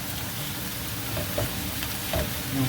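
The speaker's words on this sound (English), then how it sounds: "we'll dump the sausage in there, let that start browning." Sausage sizzles and browns in a paella pan with paprika, giving a steady crackling fry with a few scrapes from stirring throughout and no talking.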